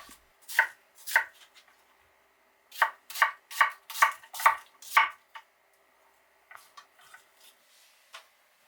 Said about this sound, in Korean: 양파는 채 썰어 준비합니다.